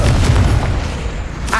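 A Confringo explosion spell goes off in the Hogwarts Legacy video game with a loud, deep boom that rumbles and fades within about a second.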